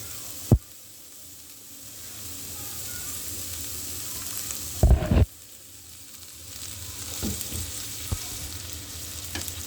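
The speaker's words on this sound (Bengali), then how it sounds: "রসুন কুচি, সামান্য আদা কুচি, চিলি ফ্লেক্স আর 3টা চিংড়ি মাছ। দিয়ে দিব তেল।" Garlic, ginger, chili flakes and shrimp fry in hot oil with a steady hiss and sizzle, broken by a sharp clatter near the start and a louder burst of sizzling midway as food is added and stirred.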